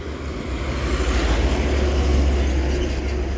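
A Rameswaram train rumbling across the Pamban railway bridge over the sea, a loud steady roar with deep low rumble and faint wheel squeal building and holding throughout, no voices.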